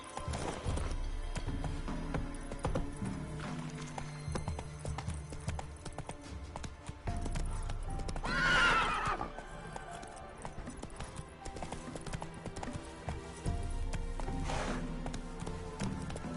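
Roach the horse from The Witcher 3 gallops with a steady clip-clop of hooves over quiet game ambience, then gives a brief whinny midway before the hoofbeats carry on.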